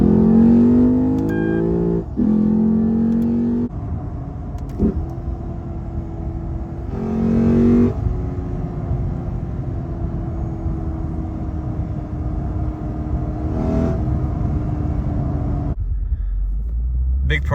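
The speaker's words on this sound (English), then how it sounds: "I have yet to own a car that sounds this good under load with no exhaust." Lexus IS F V8 with an open intake and no exhaust, its induction roar rising and falling under load in repeated pulls, loud and close with a deep steady rumble, a voice briefly heard over it.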